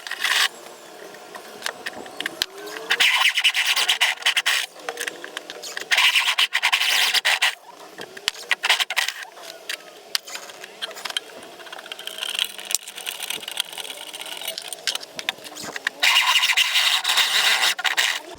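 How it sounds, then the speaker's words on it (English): A step drill bit grinds and rasps through metal in repeated bursts, enlarging a hole for a bulkhead fitting, with brief pauses between passes. "I'm going to use a step bit to make the hole bigger"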